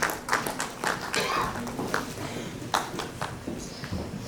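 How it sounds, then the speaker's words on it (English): Scattered clapping from an audience at a Platinum Jubilee evening celebration in Kolkata, honoring Ambarish Nag Biswas; uneven, moderately distant claps with a low murmur beneath, no voice over it. "Please, a round of applause for Mr."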